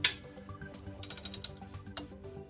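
Socket wrench ratchets quickly while loosening a brake bolt on a Dodge Grand Caravan, a run of sharp close clicks after an initial clank, with scattered metallic ticks.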